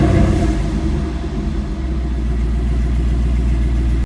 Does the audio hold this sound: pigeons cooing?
no